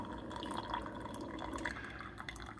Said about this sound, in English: you do get some drips coming out around the side here